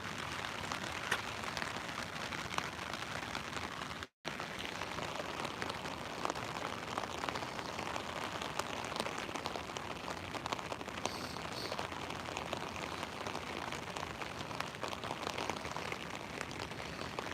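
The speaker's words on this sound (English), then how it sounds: "Just when I thought the rain's getting lighter, now there are bigger drops coming down." Heavy rain with big drops pours down steadily during a sudden storm, a constant dense hiss and patter, fairly faint and broken only by a brief dropout.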